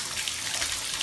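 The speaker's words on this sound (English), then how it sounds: "let's turn on the bath water" Bath water running from a tap into a bathtub, a steady broadband rush of flowing water that stays even and fairly soft throughout, with no voices.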